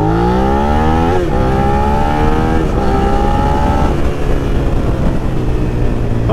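A Suzuki SV650 ABS motorcycle fitted with a Yoshimura exhaust revs loudly up close, several rising engine sweeps followed by a throbbing idle.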